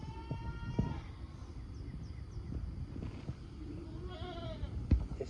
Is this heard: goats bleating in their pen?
yes